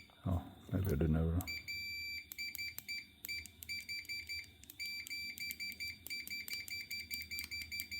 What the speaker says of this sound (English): Fluke has the best continuity beeps, I reckon.